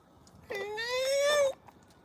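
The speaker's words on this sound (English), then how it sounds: "Why you keep meowing on me, man?" A single drawn-out cat meow, rising slightly and held for about a second, close and clear over a quiet background.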